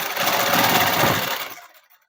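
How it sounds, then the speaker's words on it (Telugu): A sewing machine stitching a dress made from an old saree: a fast, steady mechanical whirr runs loudly for about a second and a half, then winds down and stops. "ఇలా కుట్టు అనేది వేసేసుకోవడమేనండి."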